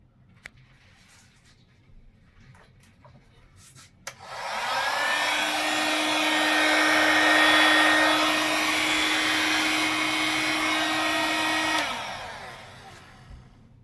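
A hot air blower switches on and roars steadily for about eight seconds while heating an FFP2 mask near a thermometer probe, then cuts off; a few faint clicks come before it, and no one speaks.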